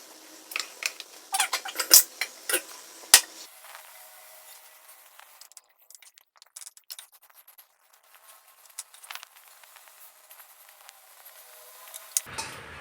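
Metal spoon scraping and scooping cooked rice out of a pot while making prawn biryani, a run of close clinks and scrapes at the start, then softer intermittent scratching.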